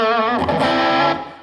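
Distorted electric guitar through a distortion pedal with its tone control set in the middle, a loud sustained chord that slides in pitch, then rings and fades out.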